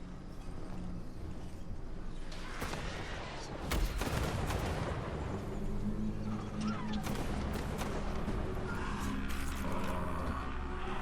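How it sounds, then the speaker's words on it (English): Battlefield bombardment in Total War: Warhammer 2 booms and rumbles in repeated blasts mixed with crackling fire and clashing battle ambience, moderately loud throughout. "You got pretty good bombing going on over here."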